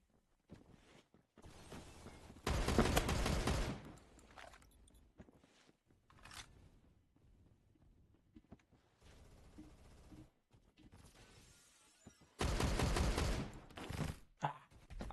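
Bursts of M60 machine gun fire in the video game Phantom Forces, two long loud rapid-fire volleys plus a few shorter shots, with quieter game sounds between them.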